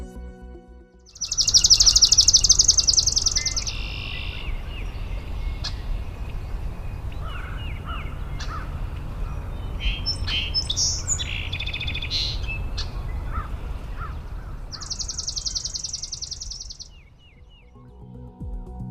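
Bird song picked up by a phone running a bird identification app outdoors: several birds chirp and trill in bursts near and farther off, over a steady background hiss, with no talking.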